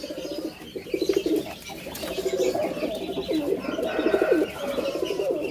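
Pigeons cooing in repeated low, throaty phrases, close by, with faint chirps and outdoor noise behind them.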